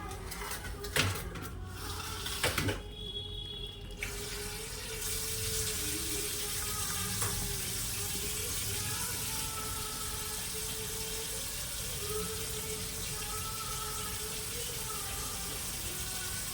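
Tap water runs steadily over dishes being washed in a home kitchen, a continuous close splashing rush that starts after a few seconds of brief clatter and lasts to the end.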